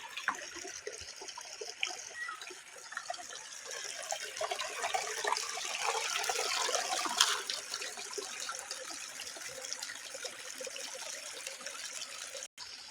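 Water rushing and gurgling steadily over rocks, a continuous splashing flow close by with no voices.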